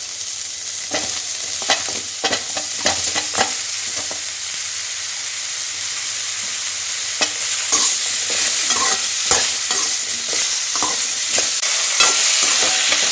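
Bottle gourd, onion and garlic frying in a pan for dosa, a steady close sizzle with repeated spatula scrapes and stirring clicks throughout, no voices.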